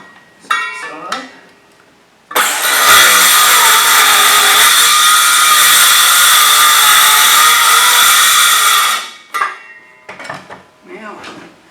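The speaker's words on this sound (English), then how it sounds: "which is going to be mostly done with the oscillating saw" Oscillating saw cutting into a wooden boat deck, a loud, close, steady high-pitched buzzing drone lasting several seconds, framed by brief knocks and handling sounds before and after.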